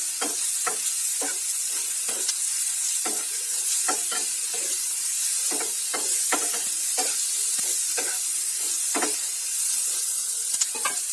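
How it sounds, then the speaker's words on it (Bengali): Small fish frying with turmeric and salt for a thin Bengali curry, a constant close sizzle broken by frequent scraping stirs in an irregular rhythm, no voices. "এবার এর মধ্যে দিয়ে দিচ্ছি আমি পরিমাণ মতন হলুদ গুঁড়ো, পরিমাণ মতো লবণ।"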